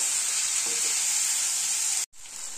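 Chopped onion and tomato fry in a pan for a fish curry, a steady close, loud sizzle that cuts out briefly near the end and then resumes.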